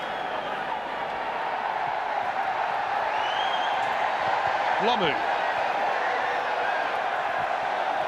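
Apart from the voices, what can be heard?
rugby stadium crowd cheering at Manawatu Showgrounds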